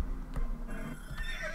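A horse in the video game Star Stable neighs, a clear whinny close up, with light hoof clip-clops and game background sound.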